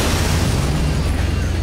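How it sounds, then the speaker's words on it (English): A vehicle explodes in the Motorstorm off-road racing game, giving a loud, dense, rumbling boom that holds steady for the whole short moment. "Let it get too hot, and it'll explode in a blaze of mud-splattered glory."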